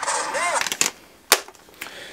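Gunfire in the Big Buck Hunter light gun game played through a Wii setup, with several sharp, separate shots spaced about half a second to a second apart over a background tone.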